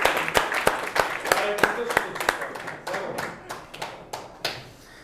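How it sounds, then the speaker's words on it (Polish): Cycling season-summary audience in Karpacz applauding a rider, sharp individual hand claps in an uneven rhythm that thin out and fade near the end, with voices talking underneath. "Także brawa dla Sławka"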